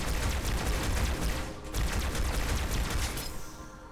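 Sustained video-game gunfire from Halo 2 as a player shoots three brutes, a dense, loud stream of shots with a brief gap midway, then tapering near the end.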